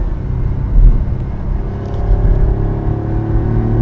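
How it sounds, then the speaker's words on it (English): A 1974 Ferrari 246 GTS Dino's V6 engine pulls steadily on the road from inside the car, a loud continuous rumble and drone that rises slightly in pitch as it revs, with no talking. "Does have that glorious V6 sound"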